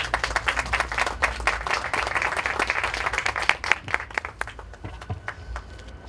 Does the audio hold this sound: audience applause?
yes